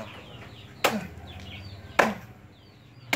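Knife blade chopping banana plant stems into chicken feed, two sharp close thwacks about a second apart, with a third beginning at the end, over quiet ambient background.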